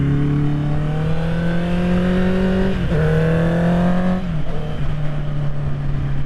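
Honda CB650R four-cylinder motorcycle engine while riding, a loud, raspy drone with pitch climbing through gears, two brief dips at shifts, heard up close throughout.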